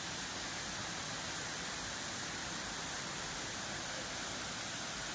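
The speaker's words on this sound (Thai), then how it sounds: "น้ำตกสวยๆครับพี่น้อง น้ำตกห้วยแม่คำเมี่ยน กาญจนบุรีครับพี่น้อง" Huai Mae Khamin waterfall in Kanchanaburi, Thailand, pours in a steady, dense, even rush of falling water that stays loud and unchanging throughout, with no voices.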